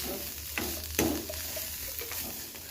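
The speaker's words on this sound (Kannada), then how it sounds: "ಈಗ ನಾವು ಕಡಲೆಯನ್ನು ಹುರಿತಾಯಿದ್ದೀವಿ. ಇದನ್ನು ಬೆಣ್ಣೆಯಲ್ಲಿ ಹುರ್ಕೊಳ್ರಿ" Chana dal roasting in butter with turmeric in a pan, a steady low sizzle with a few scraping stirs and sharp clinks against the pan, close and alone without talk.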